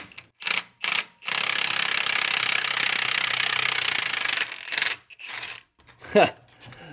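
An impact wrench removes a bolt on a shop truck's engine, with a couple of short close bursts, then a loud sustained hammering rattle for about three seconds, more brief bursts, and a metallic clink near the end.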